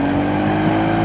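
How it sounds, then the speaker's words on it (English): A 2024 Porsche Cayenne S V8 engine accelerates, a loud, close, deep and steady roar with a strong low throb, heard alone for about a second. "top-notch V8 noises"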